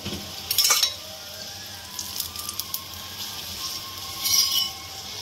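Oil sizzles and crackles on a cauliflower paratha frying on a hot tawa, a steady hiss with two louder bursts as the oil hits the pan, with no voices.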